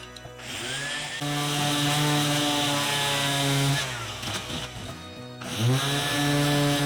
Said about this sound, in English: Use a little rotary tool just to clean up any imperfections.